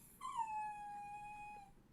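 A single long, high dog whine rises quickly, then holds steady and drawn-out for over a second before it fades, clear and close in a quiet room.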